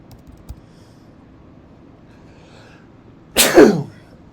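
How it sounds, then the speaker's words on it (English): One loud, close sneeze erupts after near silence, a sharp burst that trails off quickly, with a faint click earlier. "I had to sneeze again."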